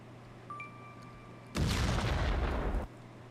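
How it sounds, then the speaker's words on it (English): A game's stock explosion sound effect erupts suddenly as one loud, full-range boom with a sustained rumbling roar that lasts just over a second before cutting off, after a faint electronic tone. "we're gonna find that old explosive sound"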